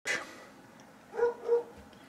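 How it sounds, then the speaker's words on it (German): Dog barking, a few short, moderately loud yips and barks with pauses between them. "Ein Gebell wieder."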